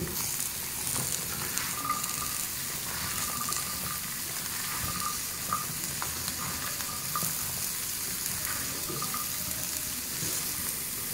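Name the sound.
cauliflower frying on medium flame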